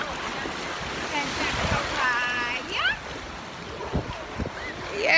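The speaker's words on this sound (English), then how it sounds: "these waves be coming" Ocean waves break and wash steadily onto the sand at Panama City Beach, Florida, with a constant surf hiss beneath people talking nearby.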